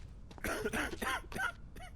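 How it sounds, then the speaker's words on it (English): A video game character in Quarantine Zone gives several harsh coughs in a short run, close and fairly loud, each burst rough and throaty. "You're coughing."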